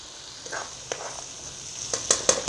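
A hot chilli tadka sizzles close up as it is poured over kadhi, starting as a soft hiss and building into several louder bursts of spitting and crackling toward the end.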